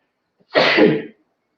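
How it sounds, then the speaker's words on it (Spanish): A single sharp human sneeze, close and loud, lasting about half a second and standing alone against silence. "un estornudo"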